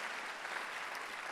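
Quiet, thin applause from a church congregation during a leadership sermon, a steady patter of clapping that stays soft and even throughout, with no voices over it.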